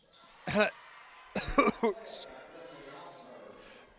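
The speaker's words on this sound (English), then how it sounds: "a little cough there." A few short coughs close to the microphone at a girls' basketball game, spaced apart with a faint throat sound between them, over quiet background.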